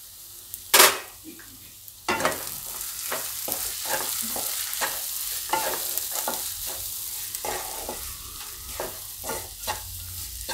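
Turmeric, salt and coriander-cumin powder stirred and fried in a pan for zunka: one sharp clank, then a steady sizzle with rhythmic scraping strokes of the spoon repeating close by.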